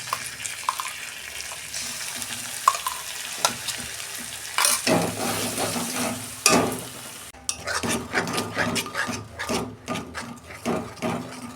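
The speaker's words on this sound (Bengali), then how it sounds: "আমি এই যে পেঁয়াজ আর টমেটো বাটাটা দিয়ে দিচ্ছি।" Onion and tomato paste goes into hot oil in a pan for a prawn curry, sizzling and frying while a spoon scrapes and stirs it in irregular knocks, close and moderately loud.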